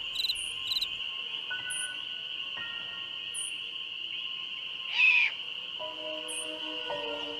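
Crickets chirp at night by a cemetery in the Nancy Drew game Ghost Dogs of Moon Lake, a steady high insect trill running throughout with a few brief higher chirps and faint tones beneath, no speech.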